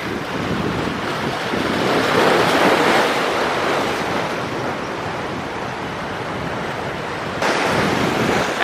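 Sea waves wash and crash against coastal rocks in Colombia in a steady, dense roar, with wind buffeting the microphone and no voices.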